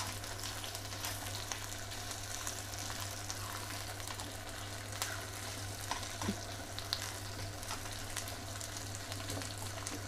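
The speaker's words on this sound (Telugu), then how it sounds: "అల్లం వేస్తున్నా. ఇది కూడా కొంచెం ఎర్రగా వేగాలండి" Ginger slices frying in hot oil for a ginger and red chilli pickle, a steady, even sizzle that continues without a break, with no voices over it.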